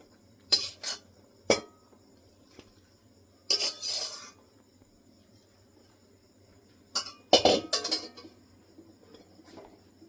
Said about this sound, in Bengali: হাতা দিয়ে সুন্দর করে মিশিয়ে নেব।